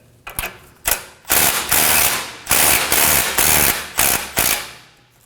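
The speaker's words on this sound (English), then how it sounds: "Using a 14mm socket, we're going to go ahead and loosen this knot." A ratchet with a 14mm socket loosens a nut on the front steering rack of a 2016-2020 Kia Sorento, giving repeated close rasping clicks in short strokes with brief pauses between them.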